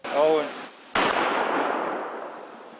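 A demolition charge detonates during sapper training with a sudden sharp blast that rumbles and slowly fades over a couple of seconds. Someone speaks just before it.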